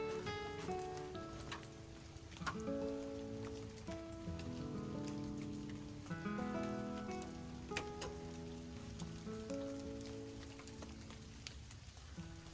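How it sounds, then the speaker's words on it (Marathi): Heavy rain falls steadily on a forest campsite at night, a dense continuous patter over tonal sounds that resemble background music. "चांगलाच पाऊस पडतोय"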